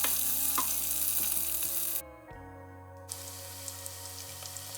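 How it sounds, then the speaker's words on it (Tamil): Mustard seeds, cumin, onion, chilli and curry leaves sizzle steadily in hot oil for a pumpkin curry, a continuous close frying hiss with a brief drop partway through. "கொஞ்சம் கடுகு, சீரகம், வெங்காயம், இதோட கொஞ்சம் சித்த மிளகாய், கருவேப்பிலை எல்லாம் சேர்த்து அப்படியே தாளிச்சிருக்கும்"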